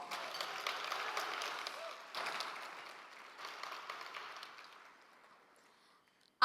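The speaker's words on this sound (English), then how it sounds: "Give yourselves a round of applause." An audience of about a thousand people at a 25th anniversary celebration applauds in a broad, steady wash of clapping, swelling in a few bursts before fading away to silence.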